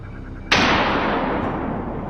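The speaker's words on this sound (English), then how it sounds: "I adjusted my scope and fired." A single sharp, loud rifle shot fired while hunting wild boar in woods, cracking suddenly after a quiet moment and trailing off into a long fading echo, with no voices.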